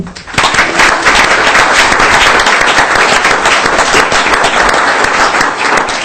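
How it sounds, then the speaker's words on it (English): A large audience at a city council meeting breaks into a loud, sustained round of applause for achievers, dense clapping that holds steady for several seconds with no one speaking over it. "I'd like to give everybody that achieved these a huge round of applause"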